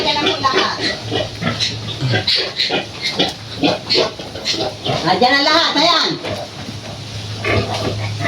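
Piglets squeal loudly and repeatedly in sharp, rising bursts while being handled on a farm, close up, with people talking over them.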